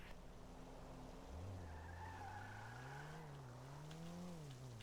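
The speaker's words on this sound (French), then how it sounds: "En tout cas, il y a des freins sur la Punto." A Fiat Punto in a video game brakes hard, its tires squealing in a rising and falling skid over the hum of the engine, sustained and prominent with no talk.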